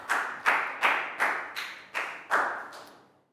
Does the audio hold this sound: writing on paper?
no